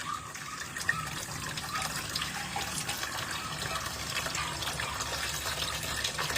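Tap water runs steadily over plates being washed in a sink, a constant splashing gush close by with faint clinks, and no voices.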